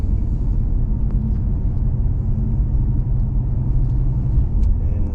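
A Lexus IS F driving with an upgraded MAF tube, giving a loud, deep, steady engine and road rumble from inside the cabin.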